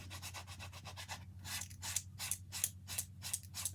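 Coarse sandpaper is rubbed back and forth across a bifold door in quick, rhythmic strokes, giving close, raspy scratching sounds with a steady low hum underneath.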